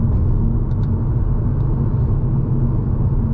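A 2024 8Y Audi RS3 with Unitronic midpipes and exhaust valves open idles with a loud, deep, steady rumble, close by and unbroken, with no revving heard.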